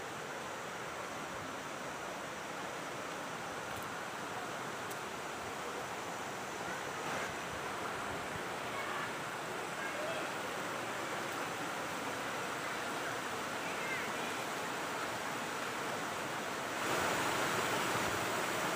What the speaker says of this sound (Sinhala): ඔයාලට පේනව නේද වතුර පාර